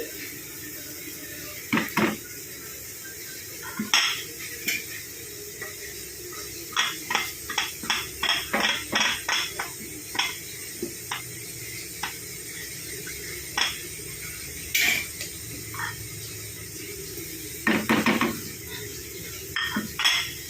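Masala of chilli powder, garam masala, cinnamon, fennel and turmeric stirred into meat in a pan for boti ularthiyathu, a spoon scraping and clinking against the metal in irregular bursts over a faint steady sizzle.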